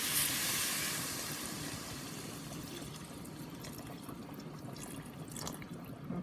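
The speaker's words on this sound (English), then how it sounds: "So what I'm gonna do now is go ahead and add my water." Water is poured into a pot of beef chunk chili, a rushing splash that starts loud and then settles into a softer, steady trickle.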